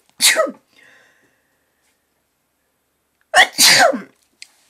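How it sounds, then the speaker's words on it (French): Two loud, close human sneezes a few seconds apart, each a sharp burst with a quick intake and explosive release, with silence between. "Excusez-moi, je vais éternuer."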